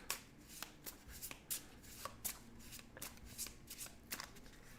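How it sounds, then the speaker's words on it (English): An encounter deck of game cards being shuffled by hand, a quick series of crisp riffling bursts repeating in a steady rhythm, close and clear with no talk. "shuffle the encounter deck"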